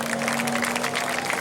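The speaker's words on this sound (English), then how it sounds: "how about a nice round of applause for our top 3 Mod Mini finishers tonight" Crowd applause at a New Smyrna speedway weekly race night for the top three Mod Mini finishers, a short burst of clapping heard from a distance across the grandstand.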